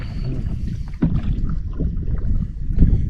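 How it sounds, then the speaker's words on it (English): Wind gusts buffet the microphone during a canoe trip in the Wabakimi wilderness, a loud continuous low rumble with paddle and water sounds mixed in, no talking. "The wind is slowly picking up."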